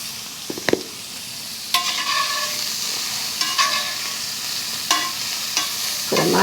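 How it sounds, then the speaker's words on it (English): Steak bites seasoned with salt and pepper sear in a hot pan during a hotel-room meal, giving a constant loud sizzle broken by several sharp spatula scrapes and stirring clatters at irregular intervals. "Put a nice little sear on this steak."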